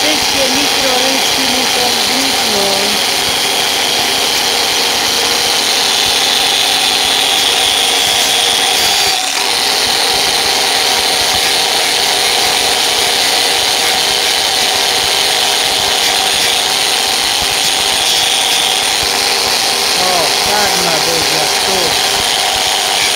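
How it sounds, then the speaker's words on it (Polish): A power tool grinds steadily and loudly around a drilled hole, a continuous harsh whine with shifting pitch running the whole time, with someone speaking briefly over it. "I szlifujemy."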